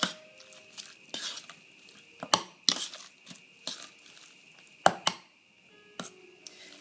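Potatoes mashed in a pot with a utensil make irregular thuds and metallic clanks against the pot, sharp knocks spaced out with quiet gaps between them.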